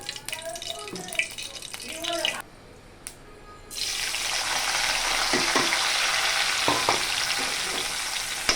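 Ginger, garlic, turmeric, chilli and cumin paste drops into hot oil and breaks into a loud, steady sizzle after a few seconds of quieter clatter and stirring. Occasional utensil scrapes cut through the close, continuous frying.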